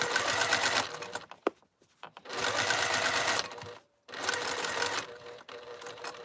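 A sewing machine stitches fabric down in place in bursts of rapid, close mechanical whirring, with two short pauses between runs and no talk.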